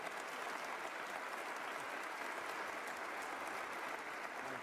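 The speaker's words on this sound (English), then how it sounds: "Now you can clap." A distant, faint crowd applauds at a state address, a steady wash of many hands clapping that holds evenly from start to finish.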